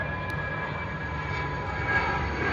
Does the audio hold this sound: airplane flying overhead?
yes